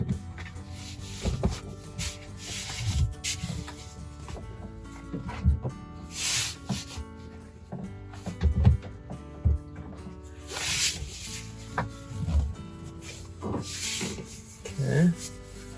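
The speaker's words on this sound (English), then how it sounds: "Now I'm just gonna cinch down these 2 outside straps here." Nylon straps on a Can-Am Defender seat cover being cinched down tight, heard as a series of close, uneven rubbing and pulling sounds with scattered soft knocks.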